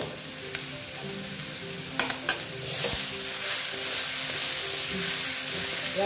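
Green jackfruit curry sautéed slowly in a partly covered pan over lowered heat gives a steady soft sizzle, with a few light utensil clinks midway and a gentle hiss of steam, no voices.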